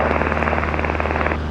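Inside the cockpit of a Cessna 172N, the aircraft engine roars loud and steady as power is added, a dense propeller drone that eases slightly near the end.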